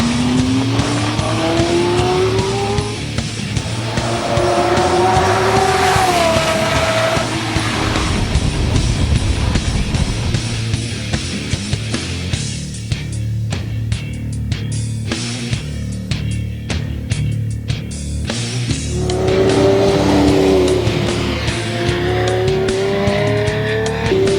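A Lamborghini Murcielago SV with a large V12 engine revs and accelerates, its loud wailing engine note sweeping up and down through gear changes, with tire squeal and the roar of hard driving throughout.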